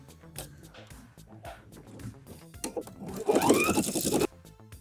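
Sewing machine stitching a quarter-inch seam on a spaghetti strap with a quarter-inch foot, a short loud whirring run near the end after quieter handling sounds.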